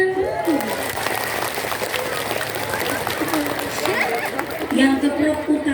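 An audience claps in a mosque during an Islamic sermon, a steady, dense burst of applause that fills the space for several seconds, with crowd chatter and voices mixed in underneath.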